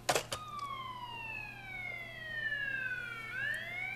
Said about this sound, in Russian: На записи с пиццерии звучит сирена скорой помощи